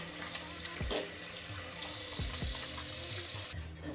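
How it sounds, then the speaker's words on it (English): A bathroom tap runs steadily as hands are washed beneath it, water splashing continuously with a few brief louder spurts, close and fairly quiet, before the flow cuts off near the end. "Let me wash my hands because..."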